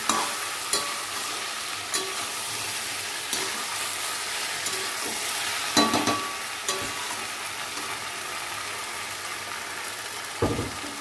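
Cauliflower stalks fry and get stirred in a pan, producing a continuous close hiss of sizzling oil broken by occasional utensil knocks and scrapes against the pan, with no one talking.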